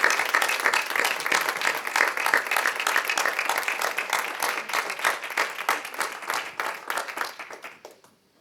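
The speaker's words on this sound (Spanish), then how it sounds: "voy a pedir, eso sí, un fortísimo aplauso" An audience at a women in science and business event claps vigorously, a steady, dense round of applause that holds for several seconds and then fades away at the end.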